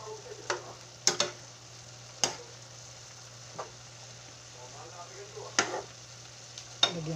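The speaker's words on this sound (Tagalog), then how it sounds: "Haluin na po natin." A spatula stirs sautéed cabbage and pechay in a frying pan, giving a soft sizzle with a few sharp scrapes and taps against the pan, fairly faint and close.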